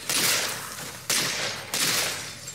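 Sustained bursts of gunfire aimed at zombies in the video game State of Decay 2, loud, broken into three rapid volleys with no talking.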